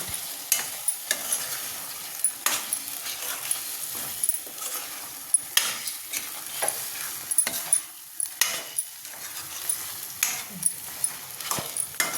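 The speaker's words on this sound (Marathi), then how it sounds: "आता आपण यात अंडी सोडून घेऊ. अंडी पण छान परतून घ्यायची." Eggs sizzle gently in spiced masala in a pan for egg curry while a utensil scrapes and clinks repeatedly, stirring in an uneven rhythm throughout.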